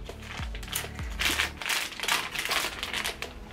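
A plastic bag crinkles and crushes while being handled indoors among household products, with dense rustling bursts over about three and a half seconds and low thumps near the start, no talking.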